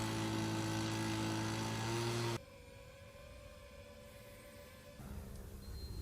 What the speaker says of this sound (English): You'll first hear a leaf blower, then a typical hobby drone that weighs 1 pound, then their drone that weighs 50 pounds.